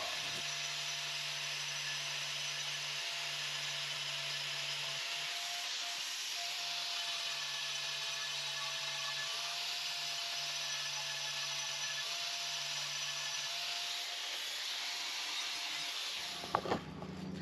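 A power grinder works down a concrete floor around a toilet flange in a post-frame home build, giving a continuous loud whirring hum for about sixteen seconds before cutting off abruptly with a clatter.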